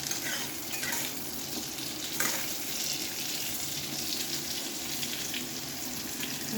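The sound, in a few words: frying pointed gourd (potol) on gas stove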